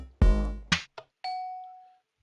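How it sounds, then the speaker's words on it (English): A house doorbell in a video game: a loud rich chime strike, a second shorter strike, a tiny click, then a single clear sustained ding that slowly fades out, alone without any talk. "then we got another doorbell in this house"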